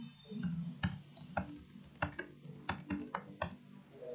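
Fingers typing on a computer keyboard while entering name details in ArcGIS, a series of crisp close key clicks in an uneven rhythm with a few louder strikes, no talking.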